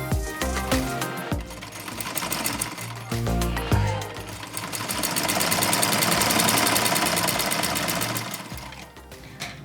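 A sewing machine runs with its pedal pressed while embroidering Ayak Kerawang work. It gives rapid rhythmic stitching that starts in short bursts with brief pauses, then becomes a longer, steadier run.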